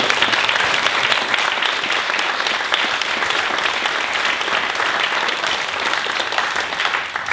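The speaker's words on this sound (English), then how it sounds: "can I just ask you please to give a big round of applause for our panelists?" An audience at a school talk on green living applauds the panelists with a dense, continuous burst of clapping that stays loud and even throughout.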